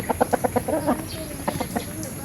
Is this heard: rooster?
yes